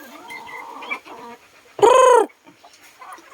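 Labuyo wild junglefowl and farm chickens clucking: soft, scattered clucks and calls, then one loud, close squawking call lasting about half a second, followed by quieter clucking.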